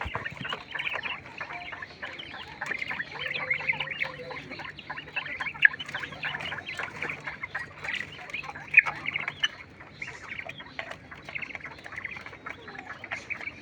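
A flock of European white giant quail, a large table breed weighing around 400 to 450 grams, calls at close range with a steady stream of overlapping chirps and clucks, with no talking.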